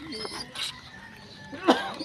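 Pigeons on a house roof give a few soft, brief coos, a short murmur early and a louder call near the end, against faint outdoor background.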